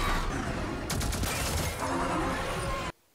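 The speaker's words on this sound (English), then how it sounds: "Are they shooting them with bullets or with lasers?" Movie gunfire crackles in dense, rapid volleys under background sound and people talking, running steadily for about three seconds before cutting off abruptly.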